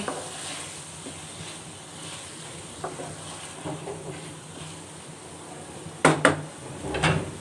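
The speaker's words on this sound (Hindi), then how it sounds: "और अच्छी तरह से टमाटर को मिक्स कर लेंगे।" Two medium tomatoes being mixed in a pan for a cauliflower curry give a quiet, steady sizzle, with a few sharp utensil clinks against the pan near the end and no talking.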